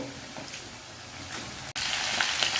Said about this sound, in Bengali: এবার দিয়ে দিচ্ছি কফিগুলো একসঙ্গে ফ্রাই হয়ে যাবে